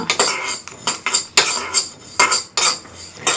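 Fenugreek seeds popping and crackling in hot oil in a pan, a close series of sharp, loud pops and clatters arriving in uneven bursts.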